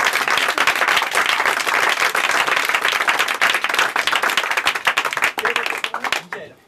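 Audience applause for a volunteer during a live magic show at a club, loud dense clapping close up that holds steady throughout, then fades out and dies away in the final second.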